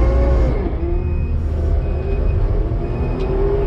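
A skid steer pushes a stuck dump truck out of ruts on a steep slope beside a pool, with a loud, steady engine drone and whining hydraulics that run throughout at close range.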